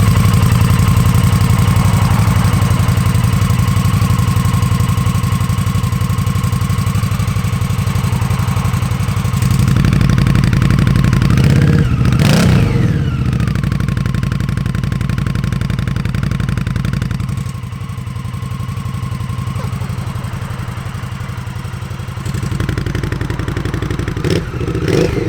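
An Indian Scout Bobber fitted with Jekyll and Hyde exhaust pipes idles loudly and close, with a rough, steady engine note, a brief revving burst partway through and slight shifts in tone as it keeps running.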